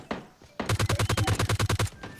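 Rapid automatic gunfire from a G36C rifle in the PUBG Lite battle royale game, a close, loud burst of about a dozen evenly spaced shots after a few faint earlier pops, with no talking over it.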